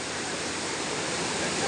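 Malico Falls in Pangasinan pours with a dense, steady rushing hiss, continuous and fairly distant, over a brief moment.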